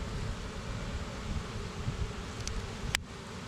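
Bees buzz around a beehive outdoors, a soft steady hum with light wind noise and a couple of brief clicks near the end.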